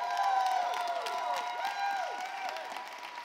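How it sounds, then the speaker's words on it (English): A standing keynote audience at the 8% Nation 2018 event claps and whoops, with scattered claps under rising and falling cheering voices at a steady level. "Somebody stand up and clap like it's a good possibility."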